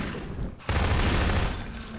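Rapid gunfire from a fast-firing weapon in the co-op game Half-Life 2 Synergy, a dense continuous burst starting abruptly after a short lull, loud and close, with a voice faintly under it.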